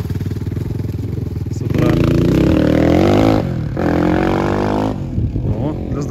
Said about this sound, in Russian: У нас такие мотоциклисты катаются.